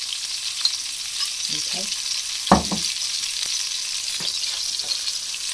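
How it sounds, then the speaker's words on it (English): Honey garlic sauce is poured over salmon in a hot pan, and a steady bright sizzle runs the whole time. A few short clicks and stirring scrapes come through, and one short spoken word is heard. "And now I'm going to pour over the sauce we've just made."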